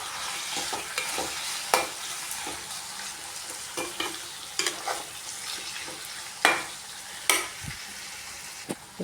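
Tomato chutney with turmeric and asafoetida stirred in a pan, with an ongoing low sizzle and irregular spatula knocks and scrapes against the pan.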